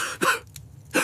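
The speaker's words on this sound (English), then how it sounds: "I am coughing." A person coughs twice, about a second apart, with short, harsh, close-up bursts and no talking.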